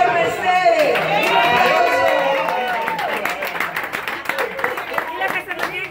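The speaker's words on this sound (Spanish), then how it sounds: "Un aplauso a Héctor Mercedes." An audience applauds and cheers over music, with a tonal melody running through the first half while clapping and crowd noise build and grow more prominent later.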